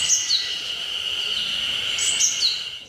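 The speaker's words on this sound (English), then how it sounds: "this is the general alert call to indicate to other birds that there is a predator nearby" Japanese tit giving its general predator alert call, a close, steady run of high, thin, rasping chirps lasting about three seconds, with no other sounds around it.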